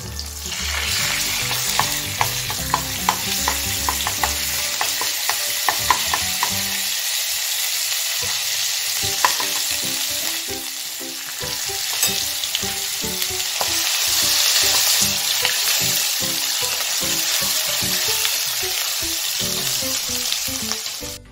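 Ginger-garlic paste sizzles and fries in a pan while a spoon stirs it, giving a continuous loud crackling hiss with frequent scraping clicks, close up and with no speech.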